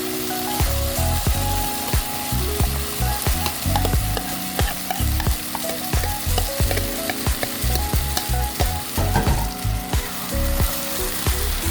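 Cooked rice frying and sizzling in a pan while being prepared as fermented rice (buro), with steady crackling and frequent scraping stirs throughout, close and fairly loud, no talking.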